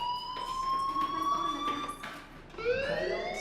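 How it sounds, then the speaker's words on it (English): A fire alarm rings in the video game Life Is Strange, a loud sustained electronic tone that holds steady, breaks briefly, then resumes with a rising sweep, no voices. "Hey, do you hear that fire alarm?"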